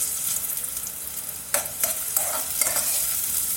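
Chopped onion frying in oil in a pot for a lentil and mung bean soup, a steady close sizzle with a few louder crackling bursts and stirring scrapes, no voices.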